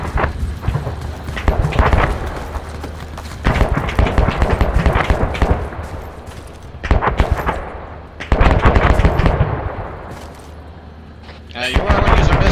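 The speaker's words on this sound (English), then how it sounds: "Open fire on the missile silos." Heavy gunfire from rapid machine-gun bursts and single shots hits missile silos in a military video game. The firing is loud and rattling, comes in clusters, and players talk over it.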